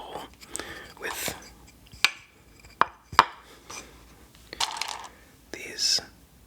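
Go stones clacking and rattling in a wooden bowl, a series of sharp, close clicks and clatters at an irregular rhythm, with soft whispering between them.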